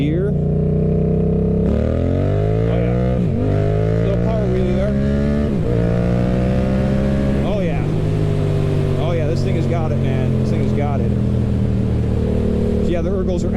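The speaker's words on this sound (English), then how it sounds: "We are in 1st gear. Oh yeah, little power wheelie there." A 2021 Yamaha MT-07 motorcycle accelerates hard in first gear into a power wheelie, its engine note climbing in several rising sweeps with brief dips at gear-like breaks, loud and close throughout.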